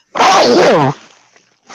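A single loud, close sneeze with a voiced, drawn-out tone, followed by quiet.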